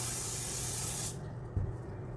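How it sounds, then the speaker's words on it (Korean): Aerosol hair spray hisses onto hair in one steady, close, loud burst lasting about a second, then stops, leaving quiet room tone with a small handling bump. "얼굴에 오지 않게 스프레이 합니다"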